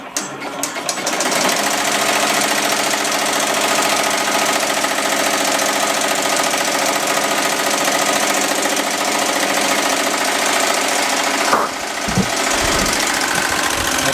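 An embroidery machine stitches a design straight onto leather for a straight razor case, giving a loud, continuous rapid mechanical chatter from start to finish with a brief clunk near the end.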